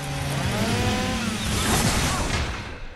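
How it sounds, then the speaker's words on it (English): Several chainsaws roar together in the Devil May Cry video game, a loud, continuous buzzing whine that swells in the middle and eases off at the end. "Too many chainsaws."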